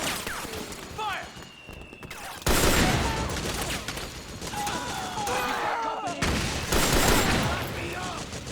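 Heavy gunfire in a Metal Gear Solid 4 battle: dense, continuous bursts of automatic fire and shots with loud impacts, soldiers shouting orders over the nearly unbroken barrage.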